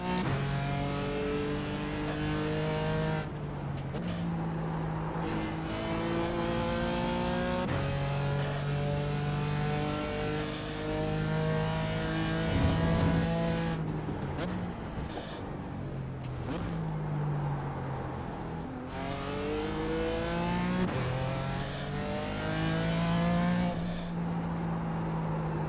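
A line of BMW M4 GT4 race cars in iRacing at Laguna Seca climbs the hill with engines roaring together, revs rising and dropping through repeated gear changes in a steady, dense drone.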